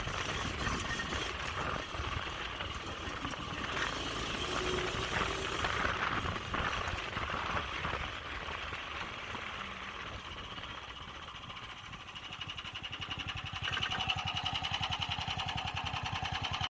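A Yerfdog Spiderbox go-kart engine runs steadily close by, a continuous buzzing drone that eases off slightly midway and swells again toward the end, with no talk over it.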